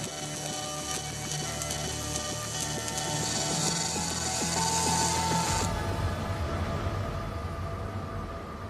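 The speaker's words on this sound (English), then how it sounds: "The robot works out the most efficient route and runs the program." Industrial welding robot at the Tesla Gigafactory running its programmed weld path, a steady mechanical whir and clatter with rapid ticking, loud and continuous, shifting in tone partway through.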